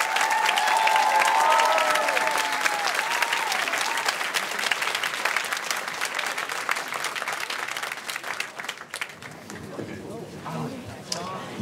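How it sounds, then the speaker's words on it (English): An audience applauds a high school men's chorale at a choir concert, sustained loud clapping from a large crowd that thins and fades toward the end, with a few voices mixed in. "keep that thunderous applause going for the men's chorale"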